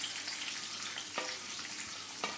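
Chopped garlic and ginger fry in a pan for pickle, giving a faint, steady sizzle with a couple of soft stirring clicks and no voices.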